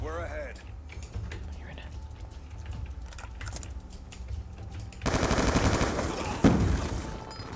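Rapid automatic fire from an M27 rifle in Call of Duty Black Ops 2, bursts of crackling shots with mechanical clatter, intensifying into a dense loud volley near the end.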